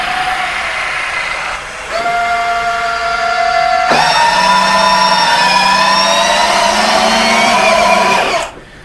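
Electric landing gear actuator on a B-29 scale model, powered by a 6-cell LiPo, whirring with a steady tonal motor whine that steps up in pitch midway, runs for several seconds, then cuts off abruptly.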